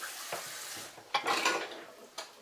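Pot of chili with tomatoes and spirits cooking down on the stove, a soft steady sizzle broken by a few scraping stirs and light clinks of a spoon against the pot, close by, with no talk.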